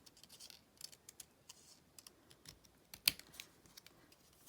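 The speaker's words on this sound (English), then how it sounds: "And what I'm going to do is I'm just going to cut along the" Scissors snip card paper for a scene card in a string of faint, close, crisp cuts with brief pauses between them.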